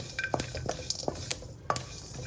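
Sesame seeds lightly roasting in a pan on the stove, with a spoon scraping and tapping against the metal in quick irregular strokes over a faint dry sizzle, near and fairly quiet.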